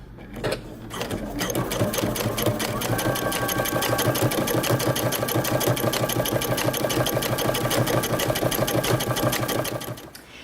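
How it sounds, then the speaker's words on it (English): A sewing machine runs continuously for about nine seconds, top stitching jeans close to the edge through pant leg and crotch, a fast even mechanical rattle after a brief start. "I'm going to top stitch close to the edge, all the way through my pant leg, through the crotch, and down the other leg"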